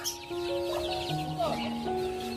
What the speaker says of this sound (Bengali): প্রথমে পার্কে ঢুকতেই একটা টার্কির সাথে দেখা।